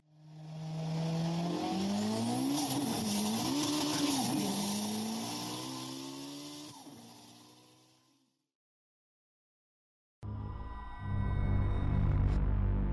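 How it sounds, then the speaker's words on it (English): A racing-style engine effect for a Jeep tearing off road: a loud roar swells and wavers in pitch, then fades to silence before a second burst of revving engine noise returns abruptly near the end. "The Jeep tore off the road."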